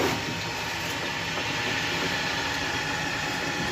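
A 4 kW, 380 V pellet mill granulator with a 150 mm die runs with a steady, loud mechanical drone and dense hum, unchanging throughout with no pauses.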